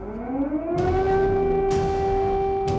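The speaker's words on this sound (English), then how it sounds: "Air raid sirens cut through the morning calm in Kiev." An air raid siren wails over Kyiv, rising to a steady, loud, sustained tone with faint crackling bursts underneath and no voices.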